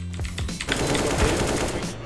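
Rapid gunfire from a competitive online first-person shooter match, a dense continuous burst of shots filling the whole moment with a faint voice underneath.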